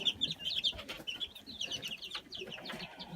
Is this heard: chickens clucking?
yes